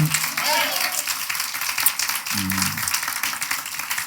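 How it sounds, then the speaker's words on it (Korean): A church congregation claps in a broad wash of applause during a Sunday morning service, with a low voice speaking briefly over it. "먼저 우리 하나님께 박수로 영광 돌리겠습니다"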